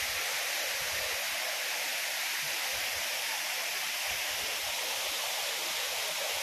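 Flowing water of a stream at a waterfall: a dense, constant rushing hiss, loud and unbroken throughout, with no voices.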